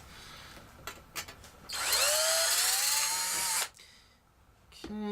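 A power drill bores a .093 hole in a transmission valve body plate from a 4L65E transmission for a 2003 Escalade, a loud whining run of about two seconds after brief handling clicks, then a sudden stop.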